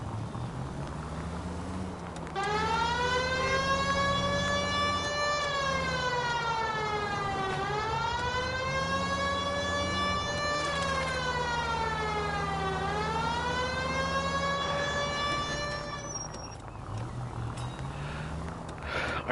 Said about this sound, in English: I try my best not to have the siren going, just because it can be annoying when driving